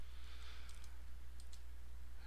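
A computer mouse clicks faintly a few times against a steady low electrical hum in a quiet room.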